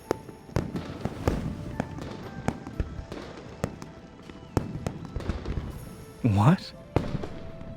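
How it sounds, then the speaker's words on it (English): Fireworks burst in a video game New Year's event, sharp pops and cracks scattered across the span with a whistling rise near the end, loud and close. "The fireworks are too loud. I couldn't hear you."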